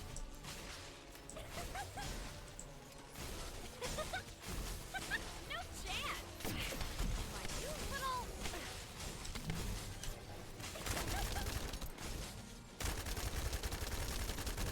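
Sustained gunfire in The First Descendant, rapid shots and impacts layered with whooshes and crashes, loud and continuous throughout, with a voice talking underneath.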